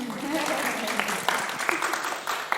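Audience clapping at a World Social Work Day panel discussion, a short spread of scattered claps rising under ongoing room noise and murmuring voices.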